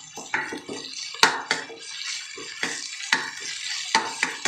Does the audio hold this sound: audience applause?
no